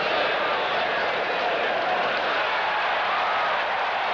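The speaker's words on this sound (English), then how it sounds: "The crowd reacted because they felt it was a clear-cut first down" A packed football stadium crowd at a 1983 Raiders at Seahawks game roars steadily over a disputed first down, a dense, loud wash of noise with no pause throughout.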